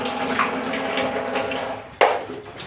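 Dishes are washed under a running tap: a steady close rush of water flows throughout, then a sudden splash and clatter near the end, with no talking.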